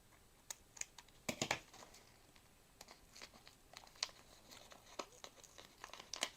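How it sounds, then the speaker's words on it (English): Paper is torn and crinkled by hand to make faux vintage tape, with quiet, irregular rips and crackles that come in short bursts, close and soft. "now I'm going to tear it"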